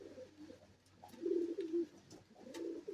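Soft, low cooing from pigeons repeats in a slow rhythm, fairly close but quiet, with no voices.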